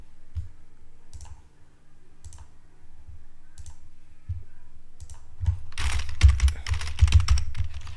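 Typing on a computer keyboard, a sparse run of single key taps that builds into a faster, louder burst of clattering keystrokes near the end, close up with no talking.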